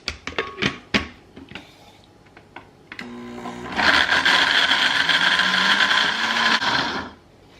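A blender whirs through grated coconut and water for a gizzada filling, starting after several clunks and knocks, then running loud and steady for about three seconds before cutting off.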